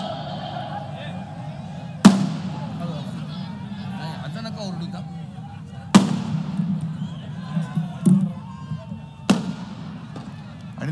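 Sharp firecracker bangs burst out three times, spaced a few seconds apart, over a steady murmur of crowd and amplified voices at a political rally in Nashik.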